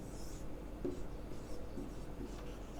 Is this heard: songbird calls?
no